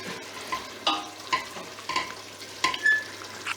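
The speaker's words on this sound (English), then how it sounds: "you effectively fry the flour in the butter" Flour frying in butter for a roux sizzles softly and steadily in the pan while a utensil stirs it, scraping in irregular strokes about every half second.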